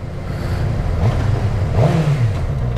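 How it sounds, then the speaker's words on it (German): A motorcycle fitted with a new slip-on exhaust revs in a steady, loud, close drone, with the engine note swelling twice as the throttle is blipped. No one speaks. "Ich mache jetzt hier das Video mit meinem neuen Auspuff oder eher gesagt Slip-On."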